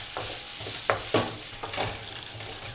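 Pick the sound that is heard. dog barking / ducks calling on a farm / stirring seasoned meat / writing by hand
stirring seasoned meat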